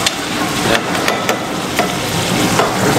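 Chicken and tomato paste are stirred in a hot pan for Chicken Shahjahani Handi, a close, steady sizzle broken by several sharp scrapes and knocks of the spoon against the pan.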